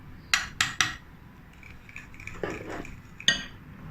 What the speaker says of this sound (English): And combine everything together.